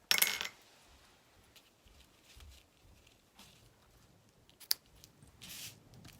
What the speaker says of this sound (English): now I'm going to grab my scissors and trim that up.